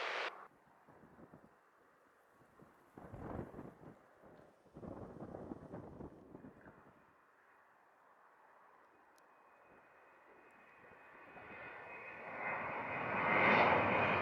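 Jet airliner engines rumble faintly and intermittently at an airport in Jamaica, then build into a louder, broadening roar near the end as a takeoff begins.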